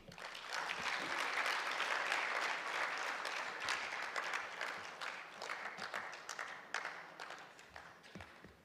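Sustained audience applause fills the hall after a speech at the African Human Resources Summit, loud and dense from the start and slowly thinning toward the end, with no talking over it.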